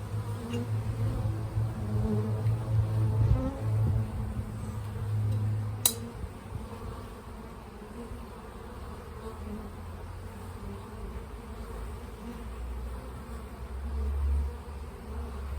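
Honey bees buzzing steadily around an open beehive during an inspection, a close, continuous droning hum with a sharp click partway through.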